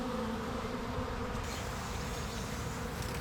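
A honeybee swarm, fanning wings and raising their rears at the entrance of a box the queen has entered: a dense, continuous buzzing hum from many bees close by, steady and loud, with no voices.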